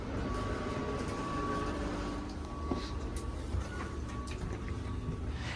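A 1989 double-deck electric multiple unit train rumbles steadily along from Sydney toward Katoomba with a constant low roar and a faint electric whine, heard from inside, with no talking.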